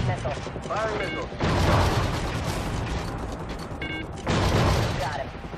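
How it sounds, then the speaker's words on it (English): Missiles launch from an aircraft in Call of Duty: Ghosts as two loud whooshing surges, with electronic beeps, mechanical clatter and a voice talking alongside. "Good missile. Firing missile."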